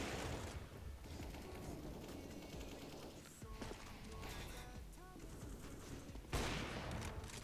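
Gunfire in a competitive Counter-Strike style shooter match: scattered shots and sharp bursts crack over a dense game backdrop, with a heavier burst near the end, heard faintly and with no one talking.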